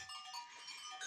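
Saanen crossbred goat kids bleating, heard as a brief, faint burst of animal calls with no talk over it.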